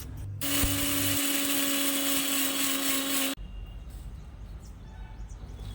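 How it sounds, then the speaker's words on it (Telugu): A kitchen mixer grinder whirs loudly and steadily for about three seconds as it grinds roasted jowar puffs with jaggery, then cuts off abruptly, leaving quiet room noise. "రెండో రౌండ్లో బెల్లం కూడా కలిపి మిక్సీ పట్టుకోవాలి"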